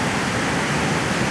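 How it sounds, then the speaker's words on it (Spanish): A swollen, muddy river pours down a cascade after heavy rains beside a damaged road, roaring as a loud, steady wall of rushing water with no pauses or voices. "miren la cantidad de agua que está bajando por esa bajada de agua, esa cascada"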